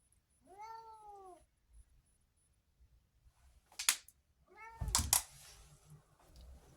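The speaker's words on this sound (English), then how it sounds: "Bandit is here as well, meowing." A cat meows twice, clear and close, with a couple of sharp clicks and soft rustling between the calls in a quiet room.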